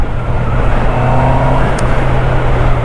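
A 2022 Honda CBR650R motorcycle engine drones loudly and steadily while riding, with wind rush blending into the constant engine roar throughout.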